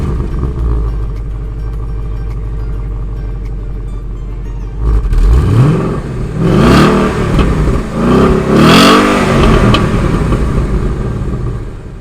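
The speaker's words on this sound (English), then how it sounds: "let's start the car up" A 2016 Ford Mustang GT idles with a deep, steady rumble before its engine is revved hard several times in quick, loud, close-up bursts that rise and fall.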